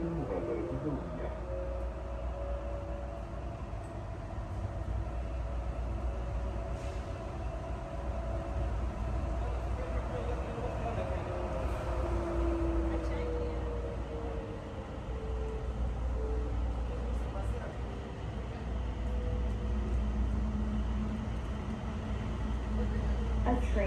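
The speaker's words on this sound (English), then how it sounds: "A train is approaching the station." A train rumbles steadily through an airport station, with low continuous rolling noise, faint squeals, and indistinct voices murmuring in the background.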